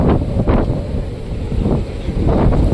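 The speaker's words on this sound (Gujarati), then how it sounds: "તમે જોઈ શકો છો કેટલો જોરદાર પવન ફૂંકાય છે મિત્રો." Strong wind sweeps the Pavagadh hilltop by the Mahakali temple, roaring in loud, gusty buffets that pound the microphone with a deep rumble and no voices.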